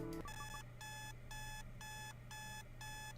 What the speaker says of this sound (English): Dia hits her alarm and flops face first into bed.